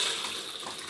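Water gushes steadily from a household tap right after the supply is turned back on at a remote rural home in Ireland, a continuous close hiss with no voices.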